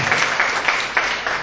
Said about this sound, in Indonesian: berikan aplaus yang ada untuk pembicara pertama di kontra